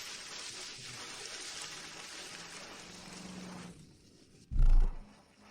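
Heavy rain pours in a steady, dense wash of noise, then a sudden loud low thump near the end.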